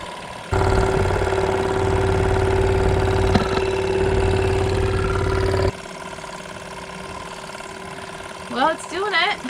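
An electric fuel polishing pump hums steadily aboard a 1977 Pacific Seacraft 31 sailboat, a close buzzing drone that stops after about five seconds, followed by quiet and brief voices.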